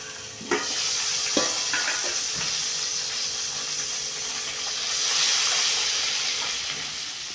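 Hot oil tempering poured over a methi chana pickle sizzles in a steady broadband hiss, with a few sharp crackles near the start and a swelling burst of spitting later on, close and fairly loud with no voices.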